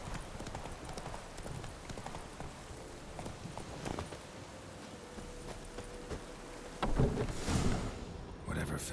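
A horse's hooves clip-clop steadily in the video game The Witcher 3, with game ambience around them and a louder rustle near the end.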